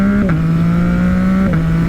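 A 2021 Yamaha MT-09 motorcycle fitted with a Yoshimura AT2 full exhaust gives a loud, close, steady engine drone, with two brief dips in pitch like gear changes and no talking.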